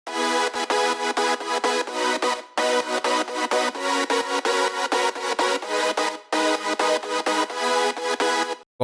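Progressive house synth chords, bright, wide and airy, pulse in rapid rhythmic stabs with two brief gaps, loud and alone with no voice.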